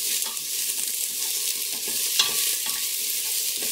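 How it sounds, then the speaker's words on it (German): Chopped onion frying in a pan with sizzling and stirring, a steady hiss with scraping, under no talk. "Jetzt kommt die Zwiebel mit rein."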